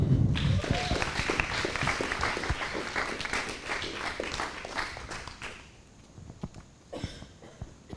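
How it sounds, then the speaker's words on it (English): Audience applause at a talk, loud and dense at first, then thinning out and fading to a few scattered claps near the end, with some thumps and faint voices. "A round of applause for Judy, everyone."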